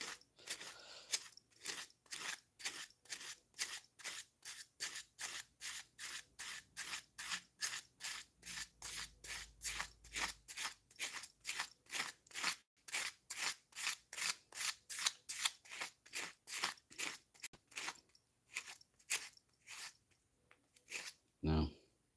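A wooden bevel is sanded by hand with coarse 80 grit sandpaper, a long run of evenly spaced rasping strokes, close and crisp, each one a short scratchy pulse repeating steadily for about twenty seconds.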